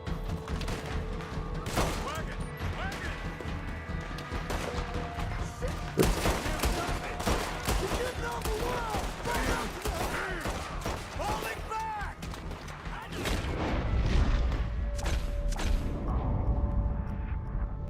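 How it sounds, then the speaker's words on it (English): Sustained gunfire from a firefight in the video game Red Dead Redemption 2, with rapid overlapping shots and bursts throughout and a heavier low rumble toward the end, loud and continuous. "There's a firefight happening."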